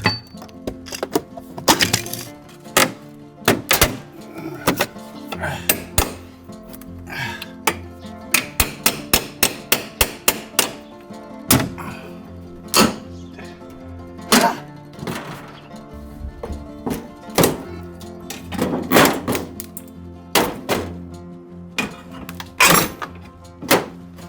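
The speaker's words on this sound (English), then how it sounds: "Now that I'm demolishing it, the top and bottom are narrow and it was difficult to remove the siding." Old window siding is pried and knocked off a house during demolition, giving a long, busy run of sharp thunks, cracks and clattering impacts at an irregular pace, fairly close and with no talking.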